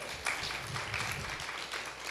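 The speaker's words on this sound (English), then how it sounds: "They clap for you." An audience at a church service applauds a children's choir at the United Church of Christ in La Mesa, California, with a soft, steady patter of clapping that sounds somewhat distant and lasts a couple of seconds.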